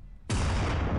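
Gunfire at a brothel in the Red Dead video game, a sudden loud blast that cuts in and sustains as a dense roar of shots and rumble, close and forceful.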